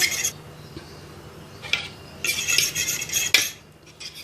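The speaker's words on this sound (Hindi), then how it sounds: "इसको अच्छी तरह से मिक्स कर लेंगे ड्रेसिंग को" A spoon mixes a salad dressing of black pepper, salt and coriander in a bowl, clinking and scraping in short bursts that grow busier toward the end, close by and without talk.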